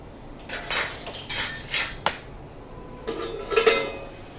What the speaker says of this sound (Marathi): 2 मिनिटांसाठी झाकण ठेवूया परत